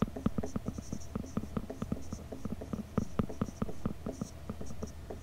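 A pen or chalk scratches rapidly across a writing surface while a math problem is worked out, producing a quiet, continuous series of short strokes in an uneven rhythm.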